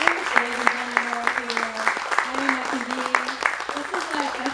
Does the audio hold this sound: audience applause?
yes